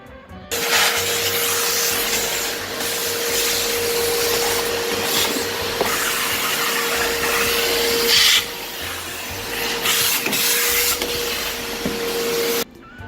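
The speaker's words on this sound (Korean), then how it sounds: "곳곳에 떨어져 있는 원두 가루를 이 청소기로 깔끔하게 청소할 수 있습니다" A three-stage detachable handheld vacuum cleaner with only its front crevice nozzle attached sucks up scattered coffee grounds in a cafe. It gives a loud, steady whining roar with a constant tone that starts abruptly and cuts off near the end, with brief scraping changes along the way.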